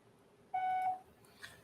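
A voicemail beep sounds after the greeting: a single clear, steady electronic tone lasting under half a second, with quiet line hiss around it.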